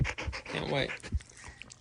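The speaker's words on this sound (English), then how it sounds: "That's our dog. You probably hear her. She's right near the mic right now." A pet dog pants close to the microphone in quick, rhythmic breaths, with a few louder huffs and a faint whimper-like tone in the middle.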